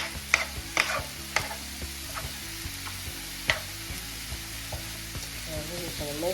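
Fajita vegetables frying in a pan for meatless fajitas are stirred, giving a steady sizzle with a series of sharp scraping and clacking strokes, close and fairly loud, with a low background hum.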